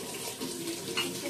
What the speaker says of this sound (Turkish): şu domates salatalığı yıkayıp